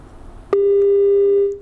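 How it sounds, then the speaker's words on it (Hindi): A single loud, steady electronic telephone tone sounds abruptly as a radio call-in line drops, holding for about a second before cutting off, with nothing else heard. "मुझे लगता है कि ये कॉल ड्रॉप हो रही है"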